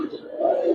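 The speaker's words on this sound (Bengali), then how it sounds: "সাপছিলা কবুতর" A pigeon of the Giribaz breed coos softly from its loft, a low murmuring call that swells slightly toward the end, heard close by with no other sounds.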